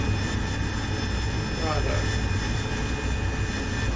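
Jet aircraft engine in a flight simulator game, a steady broadband roar with a faint whine running throughout, loud and continuous; a voice is faintly present.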